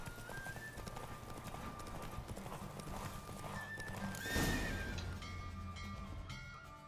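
Roach the horse galloping during a race in The Witcher 3, steady rapid hoofbeats carrying throughout with a whinny and a brief louder rush midway, over a constant background of game ambience.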